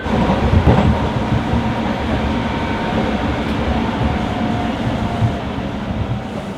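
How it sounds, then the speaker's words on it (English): A commuter train in Tokyo, Japan rumbles along steadily from inside a carriage, a dense, continuous roar with faint rhythmic wheel clatter and no voices. "getting on the train, heading to the hotel"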